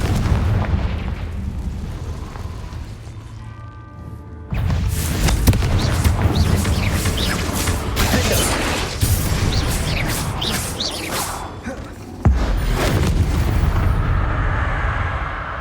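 Repeated fire-spell explosions and magical blasts boom in the video game Hogwarts Legacy, layered over a constant loud rumble of game sound and effects, with sharp new bursts at several points; no talking.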